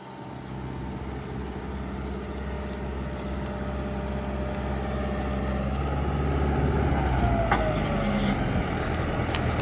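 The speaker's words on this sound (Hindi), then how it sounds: "ये देखो भाई इतना बड़ा ट्रैक्टर है, टू व्हील में इस इंप्लीमेंट को चला नहीं पाया।" A large tractor engine drones steadily while pulling a heavy Lemken implement through a field, a loud, low continuous rumble that builds slightly in level over the clip with no talking.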